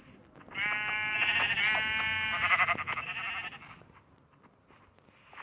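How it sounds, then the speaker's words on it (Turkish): A single drawn-out Minecraft sheep bleat with a synthetic, game-like tone, fairly clear and close, followed by a quieter tail and a brief second sound. "Şurada koyun mu var?"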